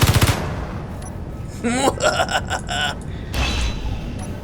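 Gunfire in the video game Space Engineers comes as short mechanical bursts of rapid shots with metallic clatter, moderately loud, in a few separate bursts.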